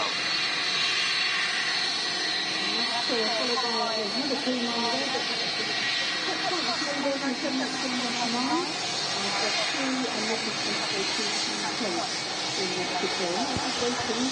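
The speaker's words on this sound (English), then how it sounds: "there's a 737 touching now" A Boeing 737 jet touches down at Manchester Airport. Its broad, steady roar and hiss fill the clip, with a voice faintly audible beneath the engine noise.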